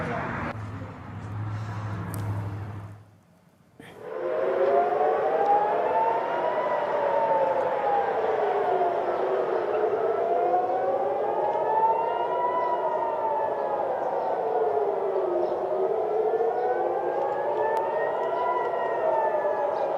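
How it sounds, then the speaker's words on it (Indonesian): An air raid warning siren wails over Tel Aviv, Israel in the early hours, a loud rising and falling tone cycling slowly and continuously after a brief muffled start with low noise. "Suara peringatan sirine dan ledakan kembali terdengar di Tel Aviv, Israel pada Selasa dini hari"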